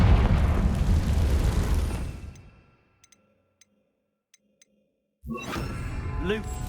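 A loud, broad fiery blast from the Confringo spell in Hogwarts Legacy roars up front and then fades into near silence with a few faint ticks, before voices come back in.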